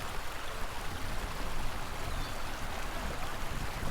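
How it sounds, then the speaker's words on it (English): Lake Itasca spills over into the creek at the Mississippi River headwaters in Minnesota, producing a steady, continuous rush and babble of flowing water at moderate volume, with no speech. "This lake spilling over into this creek, which forms the river."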